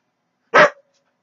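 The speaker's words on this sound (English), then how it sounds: "dog wants to play right here" A single short, sharp bark from a nearby dog that wants to play, loud and isolated with silence before and after.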